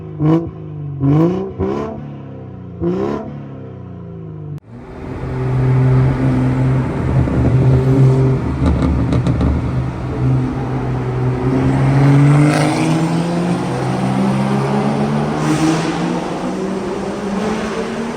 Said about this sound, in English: Now let's get them off so you can hear what it sounds like with just the pure exhaust tone.